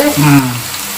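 Hot oil sizzles and crackles loudly as chips deep-fry in small batches, with a brief voice murmuring near the start.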